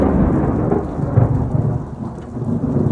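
Deep, rolling thunder from a lightning storm in southern Colorado rumbles continuously under steady rain, loud and close, with no voices.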